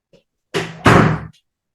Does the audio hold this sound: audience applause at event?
no